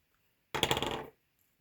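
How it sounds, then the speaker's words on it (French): A Parker fountain pen nib scratches across paper in one brief, close stroke of about half a second of raspy friction, surrounded by near silence. "je vais arrêter de parler et je vais vous juste écouter le son de la plume"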